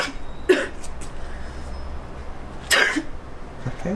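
Two sneezes from an Italian child, one short burst near the start and a louder, fuller one a couple of seconds later, both close to the microphone against quiet background noise.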